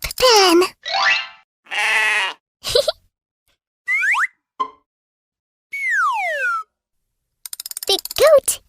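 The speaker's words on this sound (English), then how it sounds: "A sheep in a sheep pen." Cartoon-style sheep bleats from a children's animal pen game, several short wavering cries spaced between other playful sound effects and boings, loud and close with no speech.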